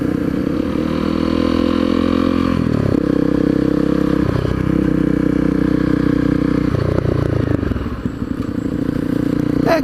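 A Honda CRF250L motorcycle is ridden through busy town traffic, its engine droning loudly and steadily with gear-shift dips and surrounding clatter from up close.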